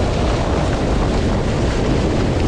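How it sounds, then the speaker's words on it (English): A strong wind gust roars steadily across the microphone while sailing an RS600 dinghy, a dense, continuous rush of wind and water noise with no talking. "Gust."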